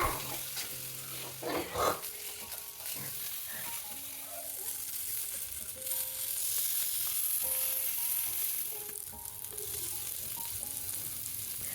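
Paneer and vegetable skewers grill in oil on a hot tawa, giving a steady, moderately loud sizzle and crackle that runs through the whole stretch with no talking.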